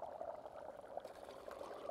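Tequila pours steadily into a glass for about two seconds, a continuous close liquid stream with a gurgling, filling tone and no talk over it.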